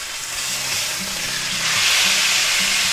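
A thick chuck steak, seasoned with garlic powder and onion powder, sizzles loudly in a hot pan just after being flipped, a dense, continuous crackling hiss that swells slightly.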